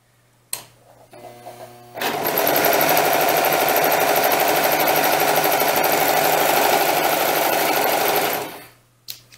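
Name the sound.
sewing machine stitching doll dress fabric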